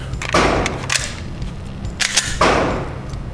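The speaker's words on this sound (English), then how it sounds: "These are the very first 10 rounds that I've ever fired with it" Shots from a Smith & Wesson M&P9 M2.0 pistol ring out as two sharp, loud cracks, each trailing off in a long echoing decay.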